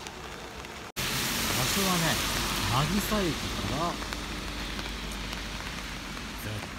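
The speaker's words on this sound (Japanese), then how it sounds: "めっちゃ雨降ってるけどね。" Heavy rain pours steadily outdoors near a small diner in Nagisa, Matsumoto, a dense continuous hiss that starts abruptly and stays loud, while a person talks over it.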